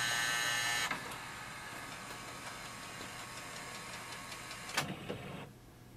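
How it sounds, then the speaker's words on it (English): HP OfficeJet Pro 9025 printer whirs through a scan, its motor hum stopping after a second, then soft mechanical clicks and a brief clunk before it falls quiet. "So here we can see it has done the scanning and is transferring the scan here."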